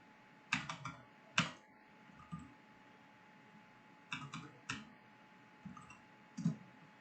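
Computer keyboard typed on while working in Rhino 6 modelling software, short bursts of crisp clicking keystrokes separated by pauses, close and clear in a quiet room.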